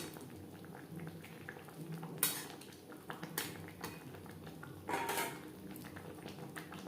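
A spoon scrapes and clinks in a pan as shahi garam masala powder is stirred into a simmering omelette curry gravy, with a soft bubbling beneath and sharp metallic taps at irregular moments.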